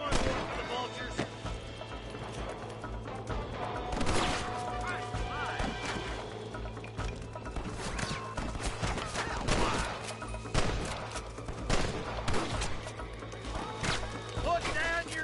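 Gunfire in the video game Red Dead Redemption: repeated sharp shots and crashes scattered irregularly over a steady background, some bursts clustered close together, with character dialogue heard between them.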